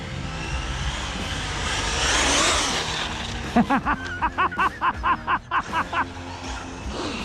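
A Traxxas UDR 6s RC truck drives at a jump spot, its electric motor whining as it passes, followed by a run of rapid rhythmic pulsing bursts as the throttle is blipped.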